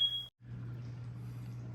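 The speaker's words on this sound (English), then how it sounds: "there goes the alarm" A kitchen alarm sounds one short, high beeping tone that cuts off abruptly, leaving a low steady hum in a home kitchen where meatloaf is cooking.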